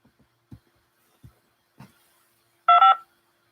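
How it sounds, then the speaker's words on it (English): A touchtone phone keypad beeps out a PIN entry: several soft low thumps, then one loud, sharp two-tone DTMF beep near the end. "Using your touchtone phone, please enter your PIN number."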